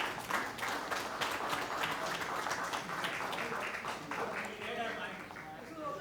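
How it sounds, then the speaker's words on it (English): An audience applauds a participant being recognised at an educational gathering. Dense, steady clapping fills the whole stretch, with voices mixed in underneath. "Please give her a big round of applause."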